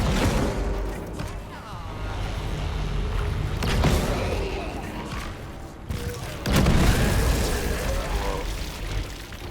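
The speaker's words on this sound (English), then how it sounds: "Right, let's try out this force gun." Heavy, booming force gun blasts in the Dead Space Remake, with loud bursts around four and seven seconds standing out over a dense, rumbling game soundscape.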